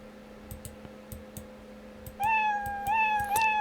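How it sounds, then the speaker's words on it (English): A cartoonish cat sprite meow sound effect in Scratch plays once, then again shortly after, over soft repeated mouse clicks and a steady low electronic hum. "When I click on this sprite, which is cat sprite, the cat will say meow"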